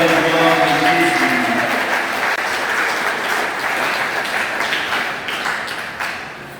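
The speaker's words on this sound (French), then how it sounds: "acclamons très fort pour la gloire de Jésus" A church congregation bursts into loud, dense applause that holds steady throughout, with faint sustained tones underneath at the start before the clapping slowly thins.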